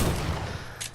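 Rapid gunfire bursts in Fortnite, a dense, close and loud volley of shots filling the whole brief moment without any talking.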